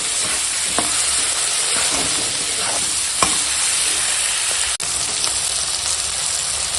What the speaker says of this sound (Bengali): কাঁচা লঙ্কা অনেকটা সূর্য লঙ্কাটা ভেজে দিতে হবে